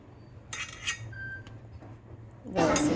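Cut bottle gourd pieces are placed into a pressure cooker in a home kitchen, making a few light metallic clinks, then a louder, busier clatter at the end. The sounds are close and fairly quiet.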